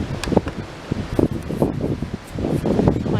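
Gusty wind buffeting the microphone outdoors, a loud, close, irregular rumble with rustling bursts throughout.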